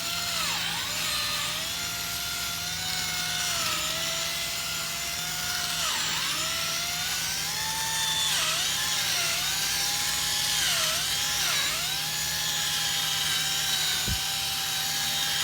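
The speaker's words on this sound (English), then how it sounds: "our objective is to sand out the scratches from the previous sanding step" Steady whirring of a power sander wet sanding a Honda Odyssey headlight lens with soapy water, its pitch dipping and rising as pressure changes, running continuously without speech.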